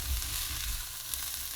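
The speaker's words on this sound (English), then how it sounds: "So after 2 minutes of frying the rice" Rice frying in a pan on the stove, ordinary white rice, a steady close crackling sizzle that holds evenly throughout with no voices.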